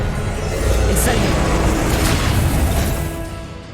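An Incendio fire spell cast in Hogwarts Legacy during a boss fight: a loud, dense whooshing burst of flame roaring continuously for a few seconds before easing off.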